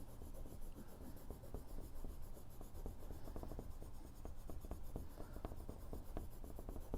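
A pencil sketches clouds on paper with soft, close scratching and rubbing strokes in a quiet room, a steady texture of short strokes with no speech.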